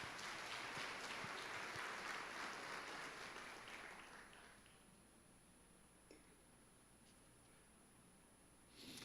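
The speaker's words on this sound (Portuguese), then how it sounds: "Vamos aplaudir Jesus por isso." A church congregation applauds in a full, dense wash of clapping that gradually thins and fades over several seconds, leaving a quiet room with a few scattered sounds.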